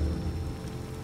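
Steady rain pouring in the video game Gears of War Ultimate, a dense, fairly loud wash with a low rumble beneath, continuous and without any voice.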